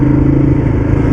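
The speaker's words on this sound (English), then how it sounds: "You can't really lug this engine because it's such a big lumpy V-twin." 2011 Ducati Diavel Black Carbon with a big, lumpy V-twin engine, running in a loud, close, steady throb with uneven pulsing firing beats.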